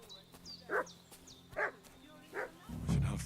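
A dog in a medieval-set video game barks three times in spaced, mid-distance yips, a low ambient hum underneath and a rumbling swell of noise at the end.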